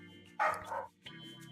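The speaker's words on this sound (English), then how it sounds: "Why is Kai barking" A dog in the video game Zenless Zone Zero gives a quick, sharp bark followed by a softer yip, heard over a quiet looping game soundtrack.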